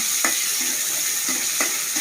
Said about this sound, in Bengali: এখন মাছগুলো রান্না হবে এর আগে একটু করে পেঁয়াজ দিতে হবে তারপর টমেটো কুচি দিতে হবে